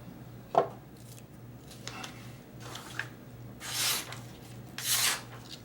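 A Hogue EXO1 knife slices through material in a sharpness test, making a few quiet scraping and swishing cuts spaced about a second apart, close by, with the last two strokes longer and brighter.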